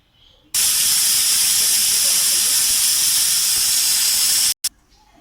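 A pressure cooker holding moong dal with tomatoes and water vents steam as a loud, steady hiss. The hiss starts abruptly and holds for about four seconds, then cuts off sharply.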